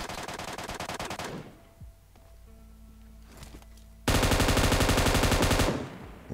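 Bursts of machine gun fire in PUBG Mobile's Metro Royale mode, a dense rapid rattle for about two seconds, then a lull with faint game sounds, then a second loud sustained burst near the end, no talking.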